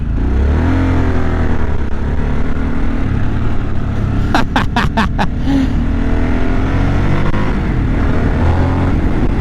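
A 2023 Harley Davidson Sportster S accelerating under a rider, a loud steady engine drone with rising pitch and wind rush, a brief clicking burst midway.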